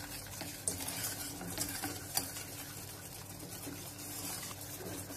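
A whisk works flour into a strawberry tart filling, giving steady scraping and swishing against the bowl with a few sharper clinks and no voices.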